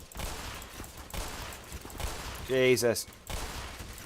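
Auto turrets fire in the Black Mesa game, a sparse, distant crackle of shots under steady game noise, broken by a brief loud exclamation from a man.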